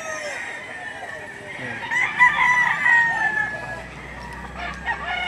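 Several roosters crow over a background of clucking chickens, with overlapping calls rising and fading at a busy livestock auction market in Lipa, Batangas.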